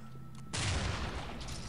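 A single sharp gunshot in the police tactical game SWAT 4, cracking out loud after a quiet moment and trailing into a brief noisy tail.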